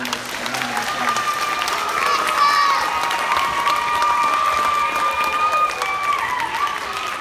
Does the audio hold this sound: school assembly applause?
yes